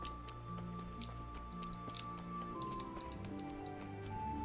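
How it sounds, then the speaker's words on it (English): Rain in the medieval game Kingdom Come: Deliverance falls as a soft, quiet patter with scattered ticking drips over a low ambient hum, steady throughout. "Although because it's raining,"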